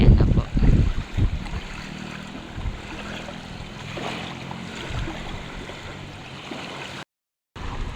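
Strong floodwater current rushes steadily past a tied-up boat on a flooded river, a broad continuous wash of flowing water with some knocking and bumping near the start, close by, and a voice speaking faintly over it.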